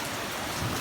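Heavy rain pours down outdoors at night at a Japanese work site with heavy equipment, a dense, steady wash of drops drumming on surfaces throughout.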